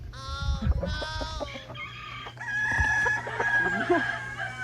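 A San Pedro rooster crows loudly nearby, several drawn-out calls with clucking and other fowl sounds in between, set against steady background farmyard noise.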